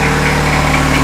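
Isuzu engine fitted in a Land Rover idling at close range, a steady loud mechanical drone throughout, with any alternator belt squeak not clearly separable from the engine hum.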